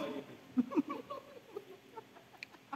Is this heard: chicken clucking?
yes